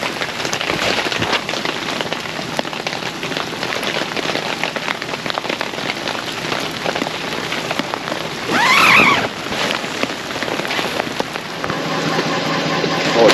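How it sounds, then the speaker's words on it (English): Heavy rain patters steadily on a nearby surface at a winter campsite, a dense continuous hiss of drops with a brief louder swell partway through. "All it's done is rain all day."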